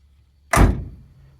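A car door on a 1971 Chevy Chevelle Malibu with a 488 big-block swings shut with a single solid, close thunk that rings briefly and fades, heard alone in a quiet setting.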